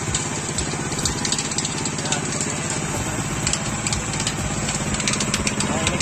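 A rice transplanter's small engine, started with a pull cord, runs at a steady rattling idle, loud and close throughout with a continuous mechanical chatter.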